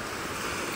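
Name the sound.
strong ocean waves at Mansalay bay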